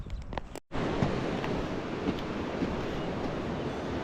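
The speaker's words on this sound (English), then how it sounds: "We're crossing over the French Broad River right now in Hot Springs." The French Broad River at Hot Springs, North Carolina, on the Appalachian Trail, a continuous loud rushing roar of flowing water heard from a crossing after a brief cut at the start.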